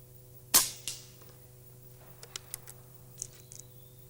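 A silenced FAC air gun fires once with a sharp, close snap, followed by a softer echo and a few faint scattered ticks and clicks in a quiet setting.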